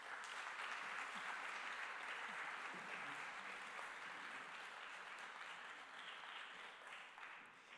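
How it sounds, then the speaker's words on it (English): A seated audience at a training school session on environmental life cycle assessment in Venice stands for a round of applause, a dense, steady wash of many hands clapping, fairly distant and quiet, holding for several seconds before thinning slightly at the end. "If you want to stand up for a round of applause"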